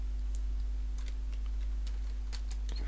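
Keys tapped on a computer keyboard while entering text into an Excel spreadsheet, a sparse, irregular run of light clicks over a steady low hum.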